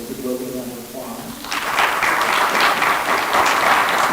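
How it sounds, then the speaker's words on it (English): A talking voice fades out and a school ceremony audience bursts into sustained applause that stays full and even to the end. "Let's give Logan a round of applause"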